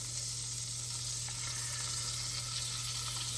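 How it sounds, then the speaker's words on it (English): Steady, dense sizzling of steak frying in hot butter and oil on a stovetop, loud and continuous with a low hum underneath and no talking. "And you want to hear it sizzle just like that."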